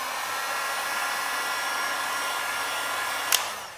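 Heat gun blowing hot air over stretched vinyl wrap on the fender of a 2017 Subaru Outback, a steady close whoosh that runs continuously with a brief click near the end.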